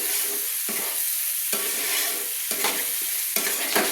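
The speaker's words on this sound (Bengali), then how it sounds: "মশলার সঙ্গে ভালো করে টমেটো পেস্টটা কষিয়ে নিচ্ছি।" Tomato paste and spices sauté in a pan, a bright sizzle broken by rhythmic spatula strokes roughly every second, each stir swelling the hiss.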